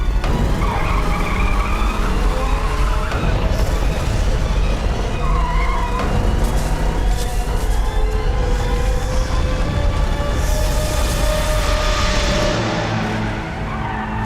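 Car speeding hard through a chase, engine roaring loud and close throughout with tire squeal and skidding, the roar rising and shifting before easing slightly at the end.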